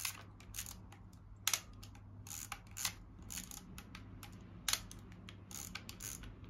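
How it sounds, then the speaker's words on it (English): Film is wound on in an Olympus XA compact camera, a faint run of small ratcheting clicks and ticks in irregular bursts close up, with a few sharper snaps and no talk. "Wind on another two frames."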